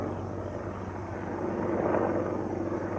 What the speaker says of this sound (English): You're not allowed to record helicopters, are you?